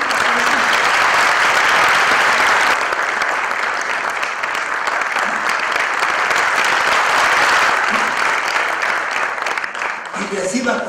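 An audience at an honorary doctorate ceremony for an Ecuadorian jurist gives loud, sustained applause, dense and continuous for about ten seconds before thinning slightly, with a voice briefly heard near the end.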